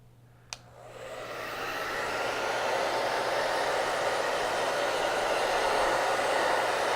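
A hair dryer blows steadily on a craft transfer for Halloween decor, switching on after a brief click and holding a loud, even whoosh close by for several seconds.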